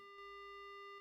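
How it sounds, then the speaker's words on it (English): A telephone dial tone plays in the horror adventure game Spirit Hunter: Death Mark after the receiver is picked up, a faint, flat, continuous hum with no voices. "The only sound I hear is the dial tone."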